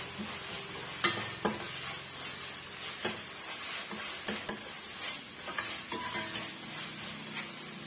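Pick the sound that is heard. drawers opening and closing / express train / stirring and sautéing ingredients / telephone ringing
stirring and sautéing ingredients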